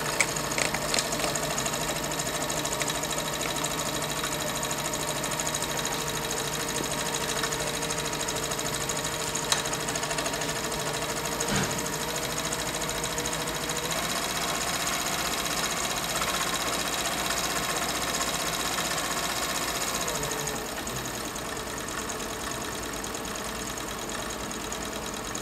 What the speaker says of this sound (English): Step on the pedal. See that you're sewing and everything.